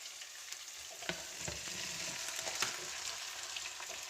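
Carrots added to a pilaf pan fry in hot oil with a continuous sizzle, punctuated by several scattered scrapes and clinks of stirring.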